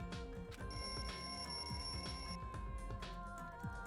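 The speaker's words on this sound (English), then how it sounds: "The lounge's wall clock alarm started ringing at 5:30" The lounge wall clock alarm in Danganronpa 2 rings steadily and continuously, a bright electronic bell with a sustained high tone over a dense, busy backdrop.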